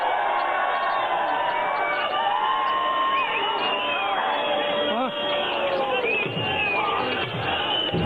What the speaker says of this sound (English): All right, crowd got excited for something.